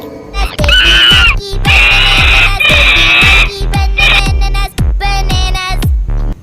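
A monkey lets out loud, shrill screeches in several long bursts, over a steady thumping children's song beat.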